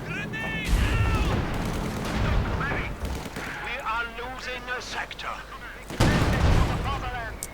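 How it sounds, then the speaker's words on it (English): Mortar rounds and MG42 machine-gun fire trade in a Company of Heroes 2 battle, dense bursts and booms running throughout under near-constant commentary, with a loud surge near the end. "Fighting in the center, mortar rounds going against the MG42."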